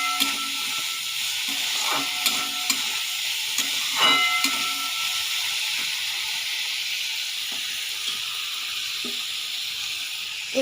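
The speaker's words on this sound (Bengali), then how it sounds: "কিছুক্ষণ নাড়তে হবে এটা ভালো করে।" Bitter gourd frying in a pan with turmeric and salt, giving a steady loud sizzle and hiss broken by a few clinks and scrapes of stirring, with no voice.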